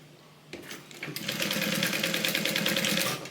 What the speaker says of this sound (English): I'm going to just sew along the two layers.